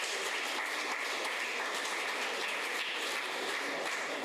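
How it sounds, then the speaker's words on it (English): A seminar audience in an English department applauds a long-serving teacher, a faint, steady wash of clapping heard from some distance, unbroken throughout with no voices on top. "we can give a big clap for him."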